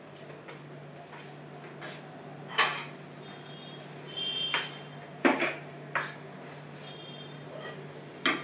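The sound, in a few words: lentil kachori filling poured onto a separate plate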